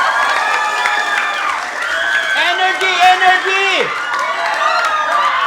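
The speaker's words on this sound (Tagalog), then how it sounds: "Palakpak muna." Schoolchildren at a Christmas-season game clap and cheer together, a dense, lively crowd noise with shrill shouts over it, and an adult voice calls out above them.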